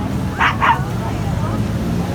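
A dog waiting in a queue at an outdoor shopping street gives two quick close barks, then falls quiet against a steady background of crowd murmur and distant traffic.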